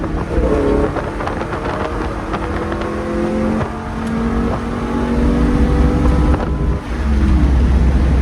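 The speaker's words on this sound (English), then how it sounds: "Give Rich the flyby here" A 1967 Pontiac GTO on new tires roars past in a flyby, its engine note loud and sustained with harmonics shifting as it accelerates, heavy wind buffeting the microphone throughout.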